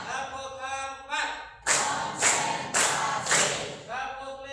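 Pupils in a class clap in unison, four or five distinct rhythmic bursts of hand claps spaced about half a second apart, with a voice counting around them.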